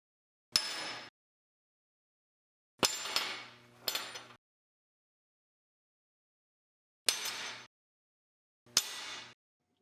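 Sheet metal is struck with a hammer on a homemade tee dolly, giving five separate sharp metallic blows with brief ringing decays, one of them a quick double hit, spaced by silence.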